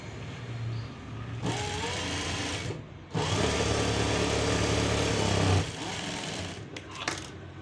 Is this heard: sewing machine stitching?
yes